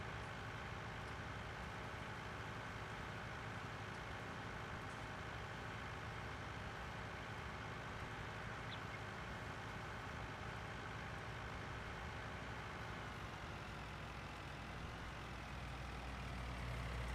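A small tractor engine runs in the farming game Farming Simulator 19, a low steady drone with a constant hum, quiet and unbroken throughout with no voices.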